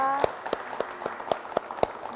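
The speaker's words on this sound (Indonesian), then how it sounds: "Tepuk tangan dong buat Kota Jogja." A small group claps for Kota Jogja at the opening of a public service mall in Yogyakarta, a sparse, slow run of about seven distinct claps, close by and moderately loud.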